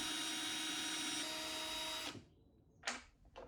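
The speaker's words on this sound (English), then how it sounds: "use a 1/16 or 3mm drill bit to widen the marks" A power drill with a 3mm bit bores holes in a plate for a bandsaw build, a steady close whine that stops abruptly, followed by a couple of short bumps and handling sounds.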